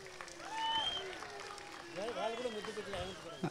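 An audience at a college event in Anantapur claps continuously, with voices and whistle-like calls rising over the applause.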